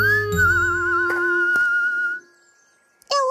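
A wavering, tuneful whistle sustains for about two seconds in an animated children's cartoon about bees, with a few soft taps underneath, then stops before a brief second whistle rises at the end.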